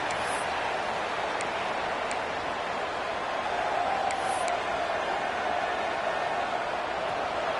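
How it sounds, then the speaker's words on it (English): A home crowd at an Oregon college football game roars in a steady, broad wash of cheering that fills the whole stretch at an even, fairly loud level, with a few faint whistles on top. "this home crowd is fired up and ready to make a difference today"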